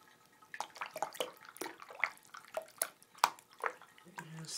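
Water splashes and trickles during a hedgehog's bath, heard as quiet, uneven sloshes and drips close by at low volume.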